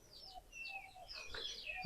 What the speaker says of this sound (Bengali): একটা লক্ষা কবুতর দেখেন, এর সাথে জোড়া নাই